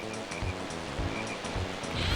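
Rushing water from a waterfall in the racing video game Diddy Kong Racing, a steady watery wash with a rhythmic pulse beneath it and game music mixed in, with no voices.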